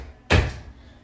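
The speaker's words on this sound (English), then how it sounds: "So, close the door." An indoor door swings shut with a single sharp thud, a short bang that fades quickly into quiet room tone.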